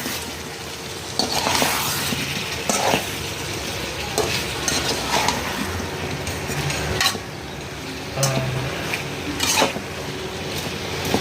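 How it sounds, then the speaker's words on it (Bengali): Drumsticks being stirred in a cooking pan with dried fish, a continuous sizzle under repeated scraping and clinking of a utensil against the pan, close and fairly loud, with no talking. "সজনাগুলো আমি এটাতে দিয়ে দেবো, দিয়ে একটু নাড়াচাড়া করে নেব।"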